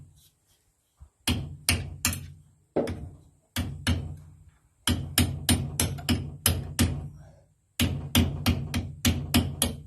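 A handleless screwdriver used as a chisel is struck with a hammer to open a plate while replacing a car's MacPherson strut and shock absorber, giving irregular bursts of sharp metallic blows in quick runs, close and loud, separated by pauses.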